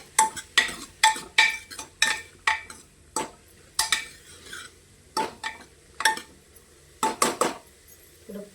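A spoon clatters and scrapes against a metal pot while stirring spicy Kolhapuri misal in repeated, irregular strokes, close and fairly loud, with quiet pauses between.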